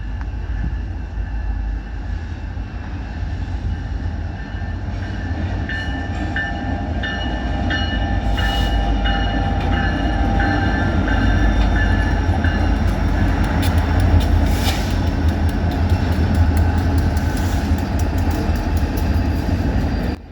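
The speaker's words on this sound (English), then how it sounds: "I would get to see a quartet of all EMD power pulling this train today" Northbound freight train hauled by four EMD locomotives, including an SD70M-2, an SD75I and a wide-nose SD40-2W, rumbling steadily past at close range with a continuous low roar and wheel noise that swells slightly midway, no talk.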